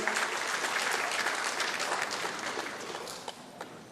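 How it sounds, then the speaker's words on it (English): A crowd at an Indian Arrival Day celebration in Trinidad and Tobago claps steadily for a child performer, loud at first and gradually thinning out, with a few scattered claps at the end. "Let's give a round of applause, please"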